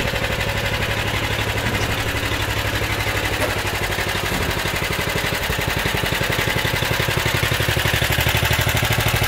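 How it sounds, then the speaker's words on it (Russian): Motor Sich MS-10 walk-behind tractor engine running steadily, a loud, close, rapid single-cylinder chugging that holds an even rhythm throughout with no talk. "мягко работает двигатель"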